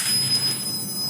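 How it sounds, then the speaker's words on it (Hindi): A three-phase auto panel in protection mode gives off a steady high-pitched electronic beep, a continuous tone over a low electrical hum, close and moderately loud with no one talking. "आप सुन सकते हैं एक बीप की आवाज़ भी आ रही है।"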